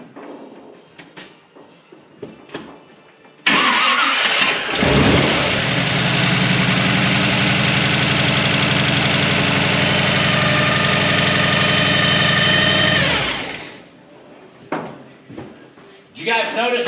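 A vehicle engine fitted with a TH400 transmission and a TransGo shift kit runs loud and steady for about ten seconds without squealing, with brief clatter and handling sounds before and after.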